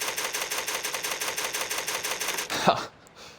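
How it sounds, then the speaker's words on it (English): Typewriter save sound in the survival horror game Resident Evil 0: a rapid, steady run of clacking keystrokes for about two and a half seconds, then a single louder carriage thunk and a faint closing tone. "There's a typewriter. Record data."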